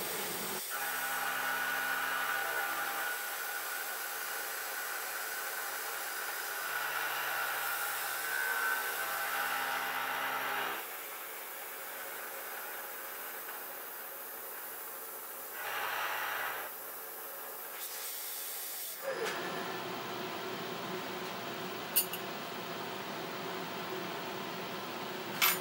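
A milling machine cuts a cast iron straight edge at 550 RPM with a 7 inch per minute feed, giving a steady broadband whirring grind with tonal hum that changes character partway, then a harsher, brighter cutting noise near the end.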